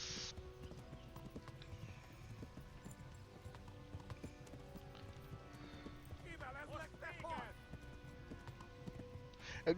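A horse in the medieval video game Kingdom Come: Deliverance neighs and its hooves clip-clop in a steady rhythm, fairly close, while someone talks over the game sounds.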